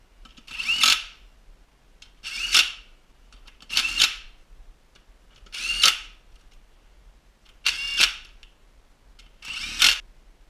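Power tool driving beadlock ring bolts on an STI HD5 wheel, six short whirring bursts spaced about every one and a half to two seconds with quiet gaps between, close by and without speech.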